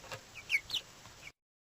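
A hen clucks a few short times, quiet and somewhat distant, with faint background noise and no speech.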